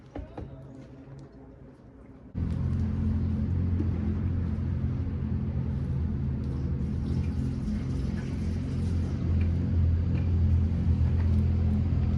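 A 1948 GMC COE truck that sat unused for many years cranks briefly, then its engine catches and settles into a steady, loud low rumble that runs on to the end.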